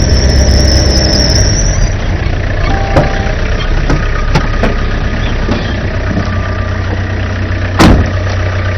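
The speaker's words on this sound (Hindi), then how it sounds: "वो तो पुलिस की गाड़ी लग रही है।" A police car's engine idles steadily and close by, a continuous low rumble with a high squeal at the start and a few sharp clicks and knocks scattered over it, no talking.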